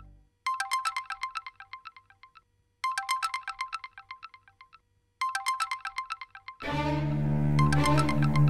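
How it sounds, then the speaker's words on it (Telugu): A phone's ringtone in a Telugu TV serial plays three loud, close bursts of rapid trilling beeps with short pauses between them, then gives way to swelling music. "మేడం, ఫోన్ వచ్చింది మేడం"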